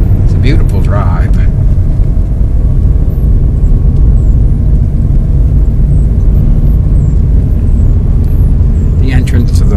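A car climbs the winding road up Mount Greylock toward Bascom Lodge and the summit monument, its engine and tire rumble steady and loud throughout, with brief faint higher sounds near the start and end.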